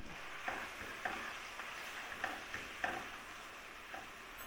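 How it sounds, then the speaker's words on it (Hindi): Chopped onions fry in oil in a kadai with a soft, steady sizzle. Faint, irregular clicks and scrapes of stirring sound throughout, and no one speaks. "हम चॉप किए हुए प्याज डाल रहे हैं।"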